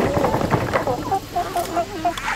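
Chickens clucking close by in a farmyard with turkeys and ducks, a busy run of short rising clucks and calls from several birds, with soft voice-like sounds mixed in.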